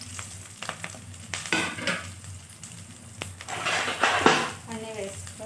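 Cumin, mustard seeds, urad dal and green and dry chillies frying in a pan for a tempering, with scattered metallic clinks of a spoon stirring against the pan over a low sizzle; a voice speaks briefly at times.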